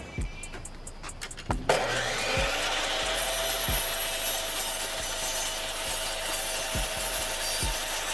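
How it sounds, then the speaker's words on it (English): A miter saw cuts reclaimed weathered lumber to size, with a few short scrapes before the blade spins up into a loud, steady whining cut that holds to the end, punctuated by light knocks of the wood. "I'm just sizing up my lumber and using my miter saw"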